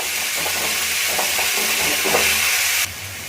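Onion and green chilli sizzle steadily in a frying pan while being stirred, a continuous bright hiss broken by soft scraping strokes, fading quieter at the very end.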